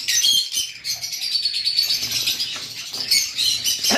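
Caged violet lovebirds and yellow-sided conures chirp and tweet in a dense, continuous high chatter, fairly close and loud, with light wing flutters beneath.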